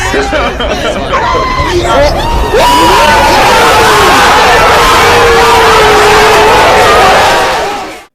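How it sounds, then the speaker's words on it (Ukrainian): Crowd cheering and chatter celebrate a win in a dog-themed video game, starting with scattered shouts and swelling after a few seconds into a loud, steady roar of cheers that fades out at the end. "як реагують на твої перемоги, прям такі оплески"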